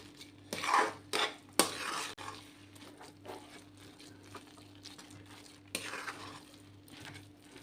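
Cooked lentils (dal) are mashed in a wok for puran, with a few sharp scraping thuds of a utensil early on and then quieter intermittent scrapes over a low steady hum.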